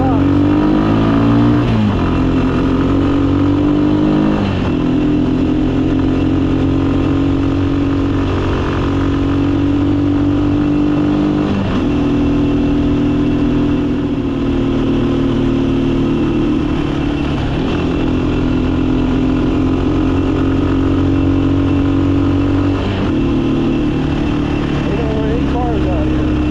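Rusi motorcycle engine running steadily while riding over rough rocky natural terrain, loud and close for the whole stretch, with shifting engine pitch as it climbs and a voice speaking over it.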